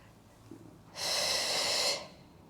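A single deep inhale through the nose comes during a guided breathing exercise. The breath is about one second long, close and clearly audible against a quiet background.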